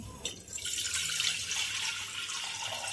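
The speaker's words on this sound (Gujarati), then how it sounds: "જરૂર મુજબ આપણે પાણી નાખીશું" Water pouring into a pressure cooker while making Gujarati dal dhokli, a steady splashing, running stream heard close and fairly soft, continuing throughout without voices.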